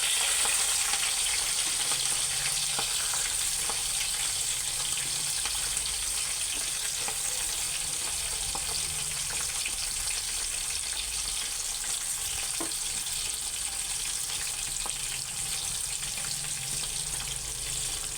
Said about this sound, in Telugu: ఉల్లిపాయలు బ్రౌన్ కలర్ వచ్చేంత వరకు వేయించుకోవాలి